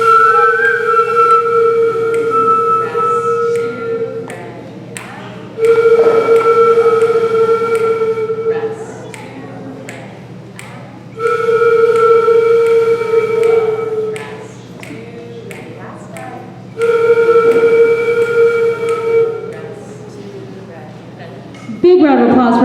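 Flute players in a school band at a first band concert sound sustained, steady tones in three separated bursts, near and loud, with quieter gaps and voices in between.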